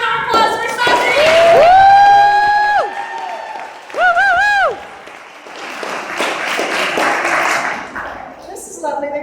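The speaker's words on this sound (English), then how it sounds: "Let's give a big round of applause for Sossity." An audience at a literary reading claps and cheers for a poet, with loud whoops and shouted cheers riding over the clapping at first, then a softer, scattered round of applause that tapers off.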